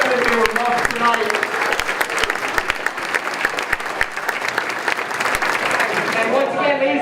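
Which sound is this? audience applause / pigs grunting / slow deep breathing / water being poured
audience applause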